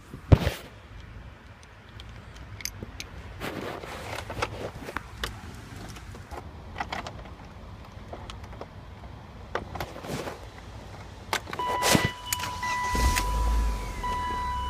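A car engine starts after a clutch and slave cylinder replacement. Clicks and handling noises come first, then the motor turns over and settles into a low, steady idle near the end.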